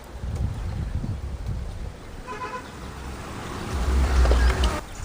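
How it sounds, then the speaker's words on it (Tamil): Outdoors at a home while a milk sweet is being made, summer wind gusts and buffets close in with a low rumble, swelling strongest toward the end, with a faint horn-like tone passing midway. "காற்று அடிக்குது"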